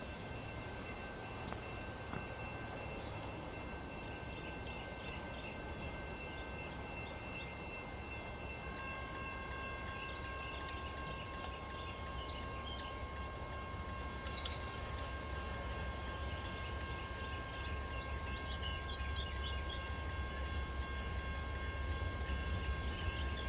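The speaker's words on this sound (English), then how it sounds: "Looks like we've got Amtrak 98 coming northbound through Ashland." Amtrak train 98 runs northbound through Ashland, Virginia, led by locomotive 110, a steady distant rumble of rolling cars with sustained high ringing tones, continuous with no talking.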